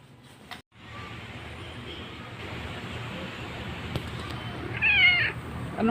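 A cat meows near the end over a steady background hiss, with a short drawn-out wavering cry standing out clearly.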